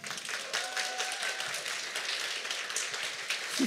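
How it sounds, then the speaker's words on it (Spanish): An audience at a talk on 2D animation direction gives a warm round of applause for animator Simón Ramírez, continuous dense clapping held at an even level throughout. "Un aplauso para Simón."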